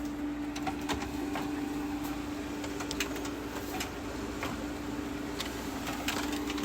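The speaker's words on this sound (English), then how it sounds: "Crank up our printer." A printer runs in a workshop near a beer fridge, a steady mechanical hum with a constant drone and irregular clicks and ticks of moving parts, moderately quiet and unbroken with no talk.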